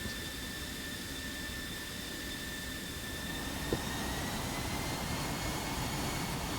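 An F-16 taxiing in a flight video game gives off a continuous jet-engine roar with a high, steady turbine whine, loud and unchanging throughout.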